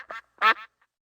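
A cartoon golden goose quacks twice in quick succession, bright and close. A human voice imitates the quacks.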